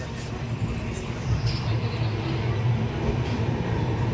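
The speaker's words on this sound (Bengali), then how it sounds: "ট্রেন কিন্তু স্লোলি যাচ্ছে" A Bangalore to Howrah superfast express rolls slowly along the track, giving a steady low rumble with faint clattering at an even, moderate loudness throughout.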